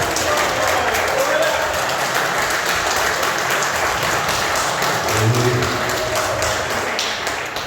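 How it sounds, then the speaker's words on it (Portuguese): A church congregation gives a dense, sustained round of applause during a celebration service, steady and loud throughout with faint voices underneath. "Quantos felizes no Senhor, dá uma salva de palmas a Ele?"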